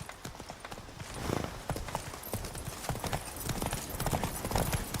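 A horse trots in The Witcher 3 video game, with quick, even clip-clop hoofbeats over a steady background bed, close and clear.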